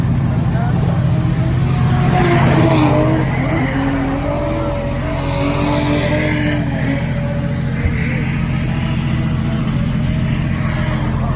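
A drift car at Freedom Factory revs hard and slides with continuous tire squeal, the engine note rising and falling over a constant loud roar, with people talking faintly underneath.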